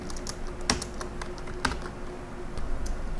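Computer keyboard keys tapped at an irregular pace, close and clear, with a few sharper keystrokes standing out against a quiet room hum.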